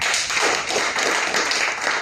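An audience at a Hindi motivational talk claps loudly and continuously, a dense close-up patter of hands with faint rhythmic accents lasting about two seconds, with no talking.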